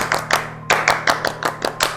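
A crowd does the tepuk pramuka scout clap: sharp, close hand claps in a quick syncopated pattern, with a brief pause and then a steady run of evenly spaced claps, no speech.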